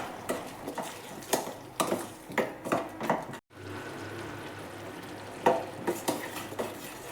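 Spice mix of turmeric, chilli powder and coriander powder stirred in a pan for tomato rice, with rhythmic scraping strokes of a spoon over a soft sizzle and a brief pause midway.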